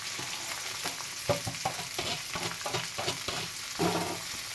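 Curry leaves, green chilli, cabbage, carrot and beans stir-frying in a pan, an even loud sizzle under repeated spatula scrapes and taps at an uneven rhythm, close up with no speech.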